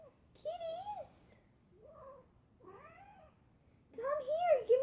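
Black kitten meowing in a series of four rising-and-falling cries, the last loudest and closest, with quiet gaps between them.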